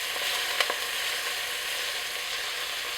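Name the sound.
ground beef mince browning in hot oil in a pan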